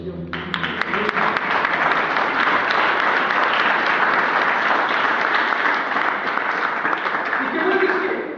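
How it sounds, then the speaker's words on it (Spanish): A church congregation breaks into sustained applause, a dense wash of clapping that swells quickly and holds for several seconds before tapering, with a voice briefly heard at the start. "Den un aplauso al Señor."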